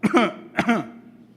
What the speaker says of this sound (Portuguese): tem um tossindo aí também